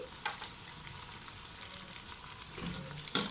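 Chopped tomatoes and green chillies fry with turnip and meat in a pan for shaljam gosht, giving a steady soft sizzle with a few stirring scrapes and a sharper clatter near the end.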